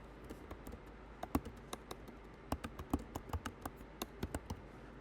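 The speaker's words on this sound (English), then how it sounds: "I can start typing" Typing on a computer keyboard to enter text, heard as a quiet, irregular run of crisp key clicks with short pauses, growing steadier in the second half, with no voices.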